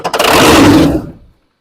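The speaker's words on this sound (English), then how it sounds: "So go ahead and start cranking." A 7.3L Powerstroke diesel engine cranks on low batteries, a loud, dense churning burst that runs for about a second before stopping abruptly, with no voices over it.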